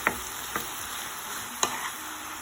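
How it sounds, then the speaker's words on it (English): Winter vegetables stirred lightly in a hot pan for Japanese mixed rice, a steady sizzle with a few distinct taps and scrapes of a utensil, close and moderately loud. "Again, I will stir them lightly."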